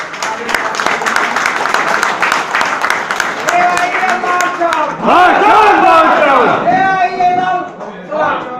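A crowd at a public gathering in Varanasi claps to welcome a speaker, dense applause running through the clip while a loud amplified voice talks over it.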